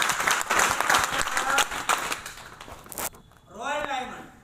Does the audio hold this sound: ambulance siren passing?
no